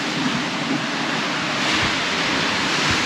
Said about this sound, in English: Waves calm down a little bit.